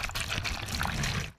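Paper and water being mixed by hand into a paste for banana-fibre nappies, a steady wet sloshing and pouring sound that runs continuously, close and fairly loud, then stops abruptly near the end.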